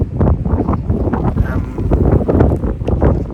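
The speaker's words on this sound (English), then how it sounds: "it's really windy outside" Strong gusty wind at an abandoned structure in Central Asia buffets the microphone in loud, rumbling roars that rise and fall continuously throughout.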